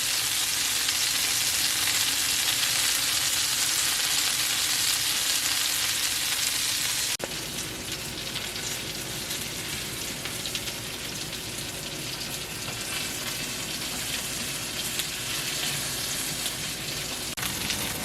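Eggplants frying on a stovetop for a spicy eggplant curry, giving a steady, loud, dense sizzle that drops slightly in level partway through and then carries on evenly, with no voices.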